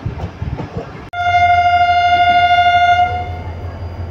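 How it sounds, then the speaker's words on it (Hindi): A moving passenger train near Khanpur station in Pakistan sounds a loud, sustained horn blast lasting about two seconds over the rumbling roll of the carriages, which fades slightly afterward. "चलती हुई गाड़ी है जनाब"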